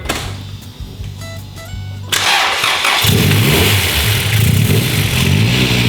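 A Honda Integra Type R with adjustable cam gears idles unevenly for about two seconds, then roars at wide-open throttle, a loud, close, sustained high-revving wail.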